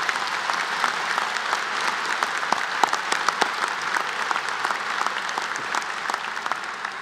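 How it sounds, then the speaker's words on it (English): Sustained round of applause from a graduation ceremony audience at Queensbury High School, dense steady clapping from many hands throughout, moderately loud and even. "How about a big round of applause for my dream team?"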